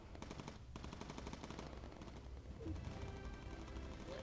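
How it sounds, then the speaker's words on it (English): Rapid machine gun fire strikes an aircraft in the Bomber Crew video game, with continuous fast bursts of rattling shots under a steady engine drone, fairly faint overall. "He's just shooting into the underbelly of the aircraft."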